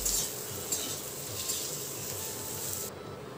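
Potato filling with chopped coriander is stirred in a pan, a steady close scraping and rubbing hiss with a faint sizzle underneath and occasional soft knocks, no voices.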